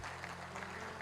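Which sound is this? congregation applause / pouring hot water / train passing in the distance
congregation applause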